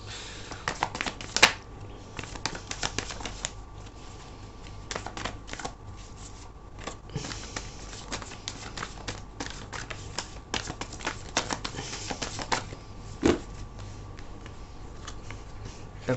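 Tarot cards are shuffled by hand in a close, dry flurry of rapid riffling ticks and soft slaps that come in uneven bursts, with no one speaking.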